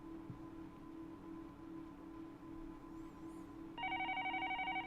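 A telephone rings in the horror visual novel Higurashi: When They Cry, a pulsing electronic trill that begins near the end and repeats in rapid bursts over a steady low background music drone.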